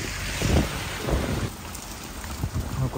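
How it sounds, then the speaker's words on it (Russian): Steady rain hisses with gusty wind buffeting the microphone, a dense, close wash of noise with no voices. "а какой дождь"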